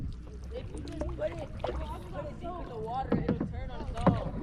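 Kayak paddles dipping and pulling through water on a family outing, splashing strokes with gurgles close by under steady conversation between paddlers.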